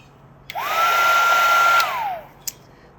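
A heat gun blows over resin holding dried flowers, a steady airy whoosh with a whine that rises at switch-on and falls away after about a second and a half, close and alone.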